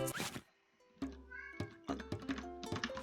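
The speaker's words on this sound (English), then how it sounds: "Cat is whining now for some reason" A pet cat whines indoors with a few drawn-out meows, fairly close, broken by a silent pause and some soft thumps, with gameplay sound and a voice faintly behind.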